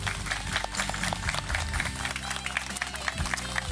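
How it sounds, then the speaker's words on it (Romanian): Wedding guests at a televised ceremony applauding a couple as they enter, a dense continuous patter of clapping with a steady low musical hum running underneath, no talk over it. "cu aplauze să-i primim"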